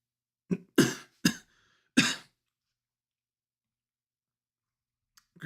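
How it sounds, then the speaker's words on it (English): Four sharp coughs in quick succession, close and fairly loud, followed by silence and a faint stir at the end. "I feel a cough coming on."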